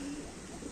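A pigeon gives a low, soft coo, brief and close, over a steady background hum.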